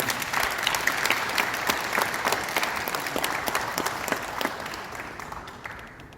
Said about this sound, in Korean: 이렇게 바쁘신 가운데서도 참여해주신 정식인 우리 총리님께 감사의 박수 한번 보내드립니다.